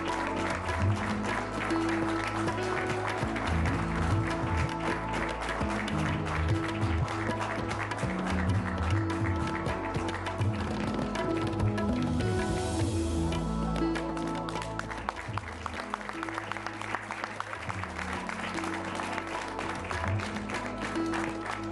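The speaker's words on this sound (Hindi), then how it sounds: "जोरदार तालियां उनके लिए" Sustained loud audience applause greets guests called onto a stage at a televised debate, dense and continuous clapping from a large crowd lasting the whole stretch with little variation.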